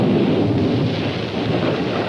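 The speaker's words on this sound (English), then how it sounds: "Looks like a storm brewing." A thunderstorm in an old 1965 science-fiction film rumbles with loud, continuous thunder over a wash of rain, steady and heavy from start to finish.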